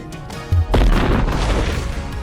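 A ship blows up in the Sail VR game with a sudden loud boom, followed by a sustained rumbling, crackling explosion that fills the rest of the moment without fading.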